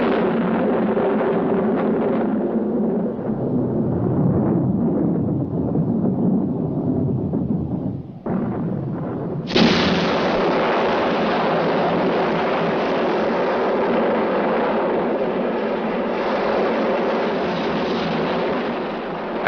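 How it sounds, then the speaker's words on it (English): Blasting explosions set off by miners, heard as a continuous heavy rumble of booming blasts that swells into a dense, loud roar after a brief dip, with no voices. "the shrill of the exchange is drowned out by the blasts of the miners' explosions"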